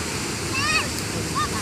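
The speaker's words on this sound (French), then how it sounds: "Voilà la plage." Waves washing onto the beach beside the Hassan II Mosque in Casablanca, a continuous broad surf rush, with a couple of brief higher tonal calls rising over it.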